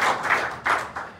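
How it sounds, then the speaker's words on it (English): Members of a church congregation give a hand clap of praise, a few loose, separate claps close by in a short burst. "Let's give the Lord a hand clap of praise."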